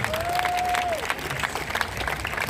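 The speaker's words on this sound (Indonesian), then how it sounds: "Boleh tepuk tangan yang paling meriah." Lively applause from a church audience at a testimony service in Palangkaraya, Central Kalimantan, a brief dense burst of clapping with a whistle-like tone and crowd noise mixed in.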